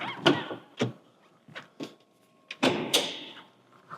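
The rear lid of a 2004 Ferrari 360 Spider is opened, giving a series of close clicks and clunks, one louder latch release, and a short whirring mechanism near the end.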